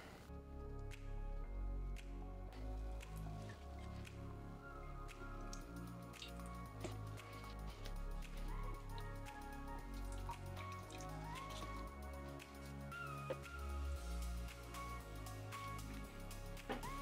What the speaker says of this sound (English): I'm just gonna water all these over the sink and let them drain.